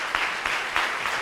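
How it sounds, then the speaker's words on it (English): Brief burst of audience applause at a summit in a hall, a continuous hiss of clapping with a few louder claps standing out at a slow, regular pace. "Please help me to give a round of applause to Mr."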